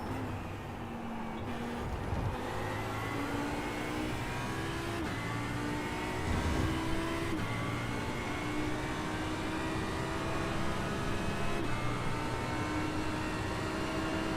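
An Audi GT3 race car in iRacing drones steadily at high revs, its engine note gliding up and down through gear changes, loud and continuous with no pauses or talk.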